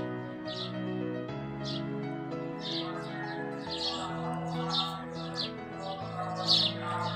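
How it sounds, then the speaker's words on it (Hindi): Birds chirp in a garden beside a fig tree, with short bright tweets repeating at irregular intervals throughout, clear and fairly close over a steady tonal background hum. "जो परिंदे हैं ना, वो भी खुशी से चहचहा रही हैं।"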